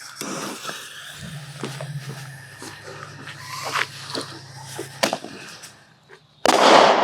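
A tiny 1-inch canister firework bursts with a sharp pop and crackle at the end, preceded by faint scattered pops and a low hum outdoors, with distant voices in the background.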